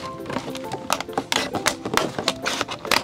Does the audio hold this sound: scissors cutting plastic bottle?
yes